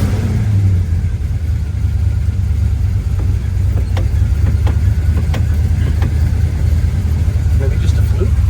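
A 1972 Chevrolet Nova idling at a raised idle on a test drive, giving a steady, loud, low rumble with a few faint clicks and ticks throughout.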